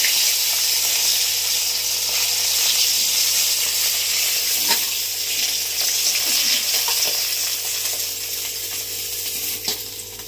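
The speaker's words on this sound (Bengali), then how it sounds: "মাছ ভাজা হয়ে গেছে, তুলে নেব।" Bata fish frying in hot oil in a wok: a steady, close, loud sizzle with light crackles and a few small clicks, no voices.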